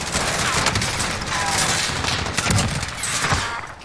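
A weapon fires in a shooter video game, a dense, rapid fusillade of gunshots that runs the whole few seconds at steady loudness.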